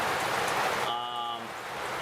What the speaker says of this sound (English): We're getting quite the rain here.